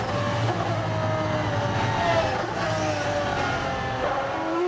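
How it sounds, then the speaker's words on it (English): A V12 Maserati MC12 GT race car driving flat out on a hill course at a speed festival, a steady loud engine roar with rising and falling pitch as it changes gear, heard from on board. "V12 Maserati MC12. This car winning dozens of FIA GT races"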